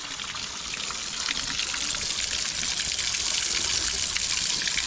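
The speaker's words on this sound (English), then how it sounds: "very clean, crystal clear mountain water, very nice" Clear mountain water trickles and splashes in the Rif Mountains of Morocco, a continuous close bright babble that swells slightly louder after the first second, with no talking.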